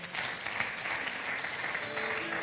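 A church congregation applauding to acclaim the Lord, a dense steady wash of many hands clapping at close range, sustained without a break.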